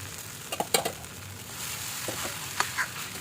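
An idli upma mixture is stirred in a hot pan, giving a soft sizzle with a few light spatula scrapes and knocks against the metal.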